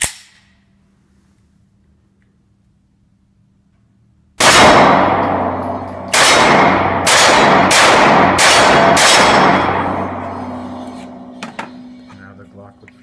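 Six sharp, loud shots from a Glock pistol with a finger-extended magazine, each cracking and ringing outdoors, the first after a quiet stretch, then five in quick, fairly even succession with echoing decay.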